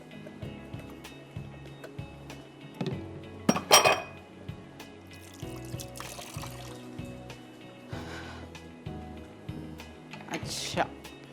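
Chicken chops are mixed in a serving dish, with clattering utensils, clinks against the dish and soft scraping, set against a low background that sounds like talk.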